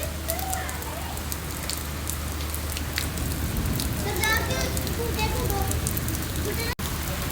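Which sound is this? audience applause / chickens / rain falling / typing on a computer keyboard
rain falling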